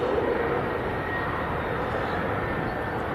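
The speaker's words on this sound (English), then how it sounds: "That was Ryanair from Alicante that just landed." A Ryanair jet just in from Alicante rolls out after landing at Leeds Bradford Airport, a continuous broad roar that is slightly stronger at first and then settles into an even, distant rumble.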